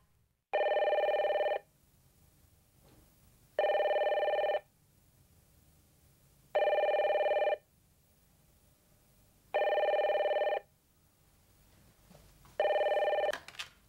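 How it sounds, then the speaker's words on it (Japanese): Office telephone bell rings in five separate bursts about a second long, spaced roughly three seconds apart, clear and close over a quiet room. "電話のベルが鳴ったら3コール以内に出ることが基本です"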